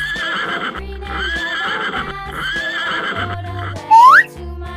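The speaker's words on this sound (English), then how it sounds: "Pony." A pony neighs loudly in a single rising whinny near the end, preceded by horse-like clip-clop and other animal sound effects in a children's animal-naming sequence.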